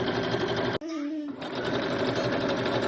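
A sewing machine runs in a steady, fast whirring stitch while stitching over the seam of a stretch dress, close and continuous, pausing briefly partway before resuming.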